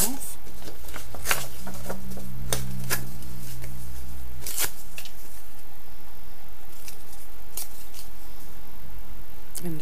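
Paper ripped off by hand for a mixed media art piece freshly coated in gesso: several sharp, close tearing rips spaced through the clip over a low steady room hum.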